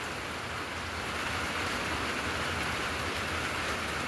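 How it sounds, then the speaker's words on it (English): Rain drums on a tin roof in a dense, even hiss that holds steady without pause throughout. "Well, it's raining again."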